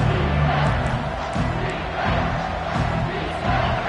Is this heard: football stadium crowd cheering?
yes